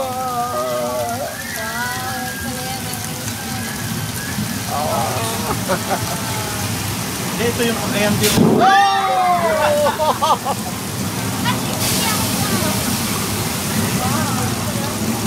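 Simulated flood effect on a studio tour, with steady rain pouring and water sloshing, building to a big splash midway, while people talk and exclaim over the rushing water.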